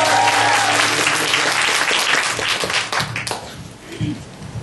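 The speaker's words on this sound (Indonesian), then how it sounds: "Tepuk tangan saudara." Applause from a church congregation during a sermon, dense and loud at first, then thinning into scattered claps and faint voices toward the end.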